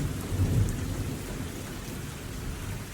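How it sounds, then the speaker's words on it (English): A thunderstorm on a porch in Wilmington, with a low rolling rumble of thunder swelling early on over a steady wash of rain falling on surfaces, moderately distant and without talking. "Bad storm right now."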